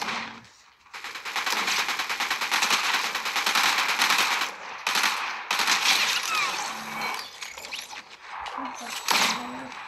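Machine gun fire in a video game, loud sustained rattling bursts broken by brief pauses, with some voice-like sounds in the mix.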